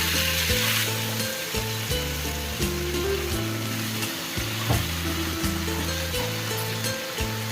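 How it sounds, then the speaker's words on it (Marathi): Fasting dosa batter sizzles on a hot oiled pan in a steady, close frying hiss with a few light stirring or scraping touches; no speech. "आपण पॅनवरती बेटर टाकून घेणार आहोत"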